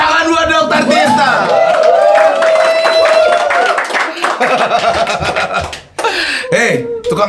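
A live audience claps and laughs for a speaker, with a loud, dense wave of applause and chuckling mixed with speaking voices, fading briefly near the end before picking up again.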